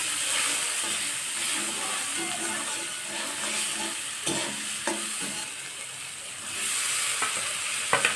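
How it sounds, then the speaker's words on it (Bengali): Chopped onions sizzle steadily in a hot pan, with scraping stirs and occasional utensil taps against the pan, close and continuous with no talking. "পেঁয়াজটা নেড়ে চেড়ে একটুখানি ভেজে নেব"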